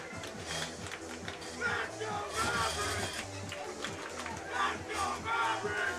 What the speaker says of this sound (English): Some Mavericks fans in the crowd trying to cheer them on.